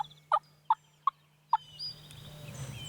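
Wild turkey gobbling from a field at a farm at morning, four short sharp gobbles in quick succession at moderate distance, followed by faint rustling background.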